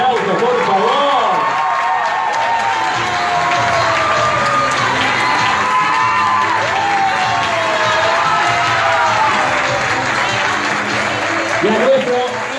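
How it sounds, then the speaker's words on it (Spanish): A crowd at a political campaign launch rally in Posadas, Argentina, applauds and cheers loudly and continuously, with whoops and shouts over dense clapping, while an amplified voice speaks over the top. "A nuestra candidata, Mariela Gasparí, fuerte los aplausos, por favor."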